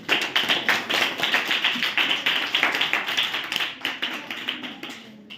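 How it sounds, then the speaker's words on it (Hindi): An audience claps in steady, brisk applause that stays fairly loud throughout and fades slightly at the end, with no talking. "आप लोग ताली बजा सकते हैं।"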